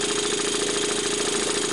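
A small Luton Bowman BM valveless steam marine engine runs at a steady, rapid beat, a continuous chuffing pulse with no pauses and no talking, fairly close and even in level.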